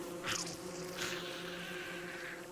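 Killer bees in Don't Starve buzz in a steady, close drone with a couple of brief louder swells, the hum holding throughout.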